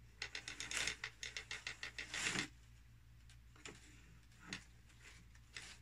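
A cricket loom's ratchet clicks rapidly in a quick, even run of about a dozen ticks as the warp is advanced, followed by a louder clunk and a few scattered, softer knocks in a quiet room.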